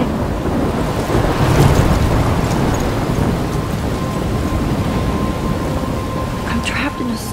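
Steady heavy rain and wind in the video game Life Is Strange, a constant loud wash of noise with faint rumbles of thunder through the storm and no voices.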